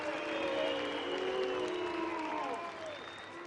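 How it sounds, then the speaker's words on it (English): A large crowd at an M-1 Challenge MMA event in Moscow reacts to a split decision, a continuous wash of murmuring, scattered applause and voices that stays fairly loud before easing slightly near the end. "A bemused reaction from this Moscow crowd"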